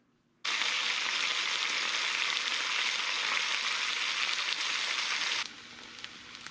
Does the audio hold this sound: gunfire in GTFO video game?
no